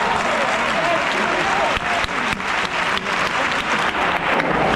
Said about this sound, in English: Sent off, but applauded off.